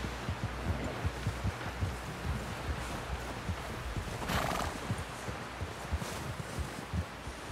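Horse sounds in Red Dead Redemption 2: rhythmic hoofbeats thud steadily through the clip, a brief whinny rises around the middle, and a low rumbling bed lies underneath.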